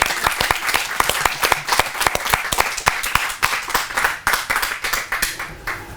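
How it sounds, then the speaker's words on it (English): Audience applause after an academic talk on the European Qur'an, dense, steady clapping from a sizeable crowd for the whole stretch, fairly loud and close. "If we could clap loud enough, she'll hear it."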